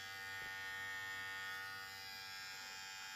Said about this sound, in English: let's press this button to hear the sound